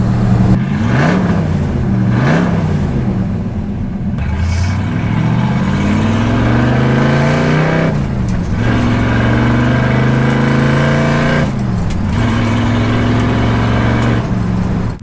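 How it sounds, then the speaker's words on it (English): A 1965 Shelby Mustang GT350 with a 289 cubic inch V8 and side-exit exhaust, heard from inside the car: a loud, rumbling engine note rising and falling through several revs and gear changes, continuous and close. "You can hear the exhaust straight out the side slightly behind you, and that incredible 289 cubic inch V8"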